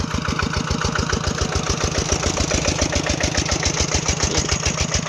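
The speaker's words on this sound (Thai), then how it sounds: "เอารถไถมา2 คันเพราะว่าคนบ่มีบ้าน" A tractor engine idles close by with a steady, fast low thumping rhythm that runs evenly and loud throughout, with no voices.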